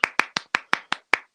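Close, crisp hand claps struck one at a time in an even rhythm, about eight sharp claps in quick succession with silence between them and no talking.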